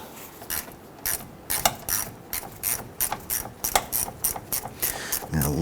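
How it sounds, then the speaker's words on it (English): A 10mm socket on a 1/4 inch ratchet loosens a battery clamping nut on a Toyota Tundra, making a quick series of close, crisp ratcheting clicks in uneven bursts. "We're going to use our 10mm socket on a 1/4 inch ratchet"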